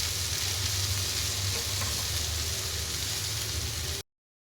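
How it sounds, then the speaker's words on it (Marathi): Steady sizzle of chopped fenugreek leaves (methi) frying in a pan for aloo methi matar, with a faint stir, continuous and close, no talking. "हलवून घेते मेथी."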